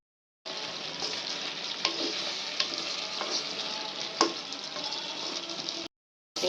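Onions sizzling and frying steadily in a hot pan while making kacchi biryani, a continuous bright crackle with a few sharper pops and stirring clicks, close and alone before cutting off near the end.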